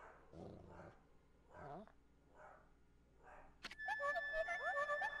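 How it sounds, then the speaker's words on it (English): In the video game Ōkami, a dog whimpers and yips several times at a moderate level with rising whines. A brighter burst of chiming game sound follows near the end. "Is that doggy crying somewhere, sis?"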